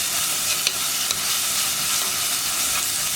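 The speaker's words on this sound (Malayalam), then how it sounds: "ആ വറ്റൽമുളകിൻ്റെ റോ ടേസ്റ്റൊക്കെ ഒന്ന് മാറി വരുന്നത് വരെ നമ്മളൊന്ന് ഇളക്കി കൊടുക്കുക." Dried red chillies fry in oil in a pan for a green gram curry, a loud, even sizzle broken by a few sharp scrapes and knocks of the stirring spoon.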